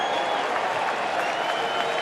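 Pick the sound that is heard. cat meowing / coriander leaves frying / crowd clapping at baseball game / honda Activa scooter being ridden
crowd clapping at baseball game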